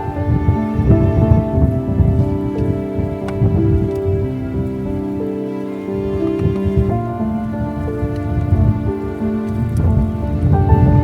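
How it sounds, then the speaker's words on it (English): Rain and wind on an exposed hill trail near a mountain summit, a steady loud patter and rush of weather noise with tonal hum layered throughout, no talking. "It's getting more windy and rain starting to come through."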